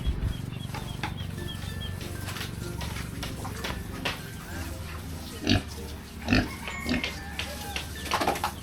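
Pigs in a pen at feeding time grunt and snuffle continuously close by, with several louder squeals and thumps breaking through and a voice faintly in the background.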